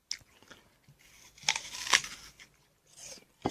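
Someone bites into a crunchy, fresh apple, with two sharp crisp crunches in the middle followed by quieter chewing, close and clear with no talk.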